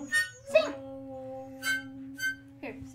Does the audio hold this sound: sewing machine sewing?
no